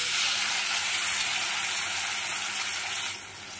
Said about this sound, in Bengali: এবারে বড়াগুলো একে একে ভেজে নেব।